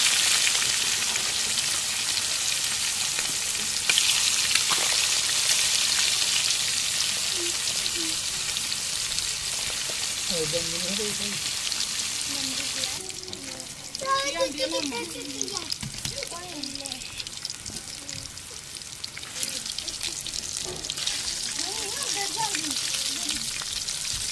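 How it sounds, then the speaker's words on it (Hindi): Fish pieces without any gram flour coating fry in hot oil with a loud, steady, crackling sizzle that runs throughout, while a voice talks over it in the middle stretch. "अभी बेसन के बगैर इसको फ्राई करेंगे"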